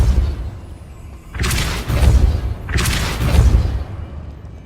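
Depulso spell cast in the Hogwarts Legacy video game: two separate forceful whooshing blasts with a deep booming impact, each swelling and fading over about a second, close and loud against a quiet background.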